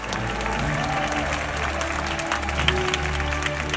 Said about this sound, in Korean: 여러분께서도 힘찬 박수로 맞이해주시면 감사하겠습니다